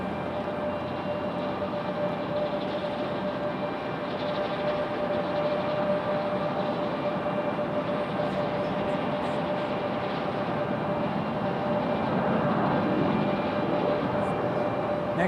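A Delta Embraer E175 regional jet departs Raleigh-Durham International Airport with a loud, sustained engine roar and a steady whine that swells slightly toward the end.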